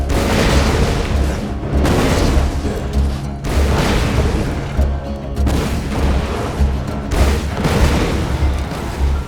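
Rocket launcher blasts in Borderlands 2, loud booming explosions repeating roughly every one to two seconds over a dense, rumbling wash of game noise.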